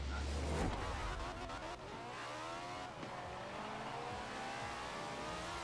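An off-road car race in the Forza video game, with a revving engine climbing and shifting in pitch through gear changes, a brief thump at the start, and steady motor noise throughout.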